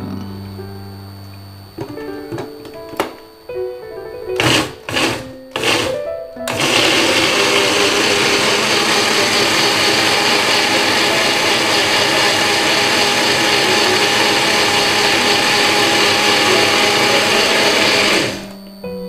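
A kitchen blender whirs through chili sambal with a little water, starting after a few short pulses and clatters, then running as a loud, steady whine for about twelve seconds before cutting off.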